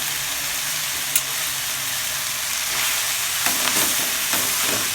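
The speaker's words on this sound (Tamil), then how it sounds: "அதை கொஞ்சம் நல்லா வதக்கிக்குவோம்." Moringa leaves and onion sautéing in a pan, a dense continuous sizzle with stirring and a few spatula scrapes and taps near the end, close and loud.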